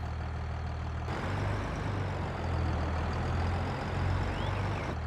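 A tractor engine runs steadily in Farming Simulator 22, a low throaty rumble that holds at an even level with a slight rise midway, alone with no talk.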